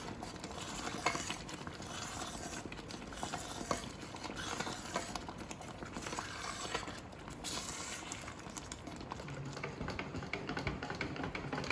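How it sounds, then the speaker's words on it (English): Atta halwa (kada prasad) is stirred steadily in a pan, with a continuous soft scraping and gentle sizzling and light taps of the spoon, close and fairly quiet. "We'll stir this continuously till it leaves the side of the pan."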